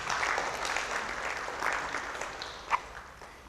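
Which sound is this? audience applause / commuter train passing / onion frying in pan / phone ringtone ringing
audience applause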